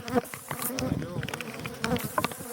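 Honey bees swarm angrily around an opened hive, a loud close buzzing with individual insects whining past the microphone in shifting pitches.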